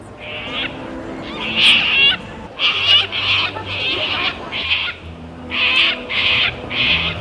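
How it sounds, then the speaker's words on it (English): Sulphur-crested cockatoos give a series of loud, harsh, raspy screeching calls, each about half a second long, repeated with brief gaps and heard alone against faint background. "Ah, sulfur-crested cockatoos."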